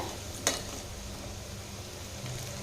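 Potato balls sizzle softly and steadily in a pan, with a brief utensil scrape near the start as they are stirred.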